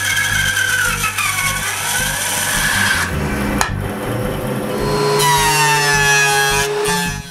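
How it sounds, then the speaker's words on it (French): A power saw rips a 4/4 maple board in two in a woodshop, a loud whining cut with shifting pitch, a short break midway, then a steady high-pitched run before it stops. "Je commence donc par couper une planche d'érable de 4 quarts en deux."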